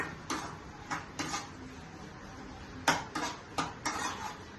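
A utensil stirs eggplant with salt and turmeric in a metal pan, giving a handful of scattered scrapes and clinks over a steady low hiss, close and moderately quiet.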